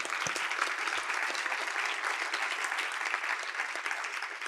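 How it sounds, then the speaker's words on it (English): A conference crowd gives a panel sustained applause, dense and even, with many hands clapping throughout at moderate volume. "another round of applause for this incredible panel"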